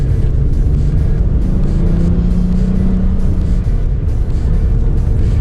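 Constant loud road and engine drone from an Acura Type S sports sedan cruising on Angeles Crest Highway, heard from inside with a steady low rumble and no talk.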